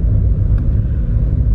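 A car moving slowly along a road, heard as a loud, steady low engine and road rumble from close by, with no talking.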